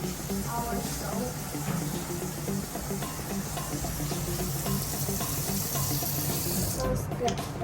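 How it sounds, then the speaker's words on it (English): Tap water runs in a continuous, steady, close hiss and splash while hands are washed at a sink, holding a constant level for the whole stretch. "Before we start, we have to wash our hands."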